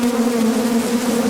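Honey bees buzz steadily and close during a hive inspection, a continuous droning hum that holds level throughout with no voices.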